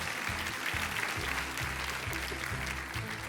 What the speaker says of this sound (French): l'applaudir bien fort